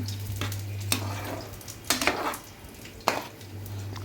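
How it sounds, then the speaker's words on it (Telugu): Fish frying in a pan as a side dish while Mughalai chicken cooks, with a steady low sizzle broken by a few brief stirring scrapes and clinks of utensils, close and moderately quiet, no talking. "ఈ పక్కన నేను ఫిష్ కూడా ఫ్రై చేసుకుంటున్నాను"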